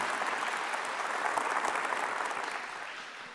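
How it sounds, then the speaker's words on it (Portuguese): Audience at a Canção Nova preaching event applauding, a dense continuous wash of clapping that gradually softens toward the end. "Eu quero pedir que você possa aplaudir a Canção Nova"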